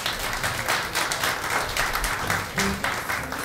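Dense, steady applause fills a hall from a concert audience at an Armenian jazz evening, many hands clapping together close and loud for the whole stretch without a break.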